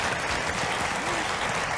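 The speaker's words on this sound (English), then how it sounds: "I want you to give all of our guests a big round of applause for being here today." A studio audience on The Montel Williams Show gives the guests a loud, dense, continuous round of applause, steady throughout with no pauses.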